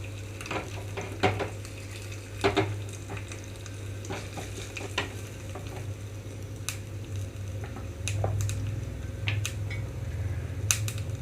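Garlic cloves and cumin seeds sizzling in oil in a pan for tempering a tomato and dried red chilli chutney, a steady soft hiss with sharp spatters and pops and occasional stirring clinks, close.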